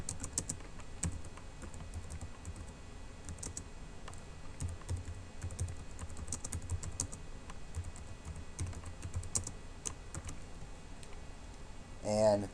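Rapid typing on a computer keyboard while entering notes into a purchase request form, producing quiet close clicks in irregular bursts over a faint background, with a brief voice at the very end.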